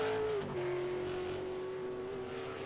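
A V8 Supercar on a qualifying lap at Phillip Island holds a steady, loud engine drone with a strong tonal whine that dips slightly and then stays level, continuous throughout with no talk over it.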